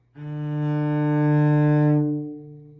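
One long, smooth, warm bowed cello note, held steady for about two seconds before fading out, clear and even in tone.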